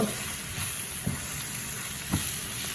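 A spiced curry of long beans and chickpeas sizzles in the pan over medium heat as the spice powder is stirred in, a continuous fry with a couple of brief scraping knocks from the spoon and no talking.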